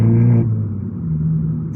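An Abarth car accelerates in second gear in comfort mode, its engine a loud, close, steady drone that drops in pitch after a brief moment and then pulls evenly onward.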